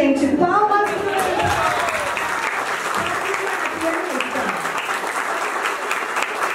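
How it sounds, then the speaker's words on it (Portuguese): Steady, dense audience applause for a young performer who has just played a song, starting over a speaking voice and continuing evenly at full volume for several seconds. "Palmas para ele."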